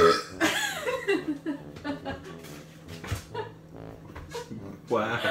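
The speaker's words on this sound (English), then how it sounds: "That was such a loud burp" A long, loud, gravelly burp rumbles out in the open, followed by brief chuckling and voices.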